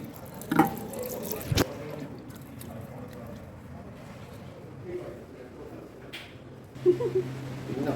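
Water running from a tap into a sink to soak items and rinse off clinging mud, a soft steady trickle with a couple of sharper knocks and splashes, fairly quiet, with a voice faintly in the background.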